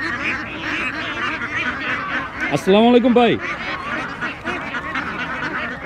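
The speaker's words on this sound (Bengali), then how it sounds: "ভাই কোন জায়গার হাঁস এগুলো?" Ducks quack loudly in a short burst of nasal calls at a wholesale village duck market in Bangladesh, amid crowd chatter and someone speaking nearby.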